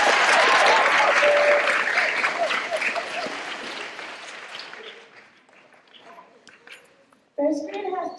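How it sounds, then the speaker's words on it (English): Students clapping at a school leadership day assembly, a loud burst of many hands that gradually thins and fades out, then a voice starts speaking near the end. "Clap your hands for"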